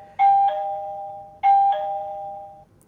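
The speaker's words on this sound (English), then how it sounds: "Here's the doorbell, by the way." Doorbell chime of a Lockin Veno palm vein smart lock, playing a clear two-tone ding-dong twice in a row, each tone ringing out before fading, in a quiet room.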